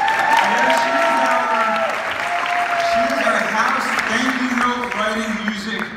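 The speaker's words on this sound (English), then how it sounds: "If you guys can give a round of applause for Jan." Steady applause from a crowd fills the space, with cheering and voices rising over the clapping throughout.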